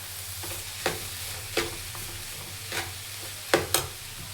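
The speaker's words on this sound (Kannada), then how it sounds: "ಕಾಳು ಮತ್ತು ಸೊಪ್ಪನ್ನ ಅಂತ ಫ್ರೈ ಮಾಡ್ಕೊತಿದ್ದೀನಿ" Beans and greens frying with onion in a pan, giving a soft steady sizzle broken by several sharp scraping stirs spaced about a second apart, with no talking.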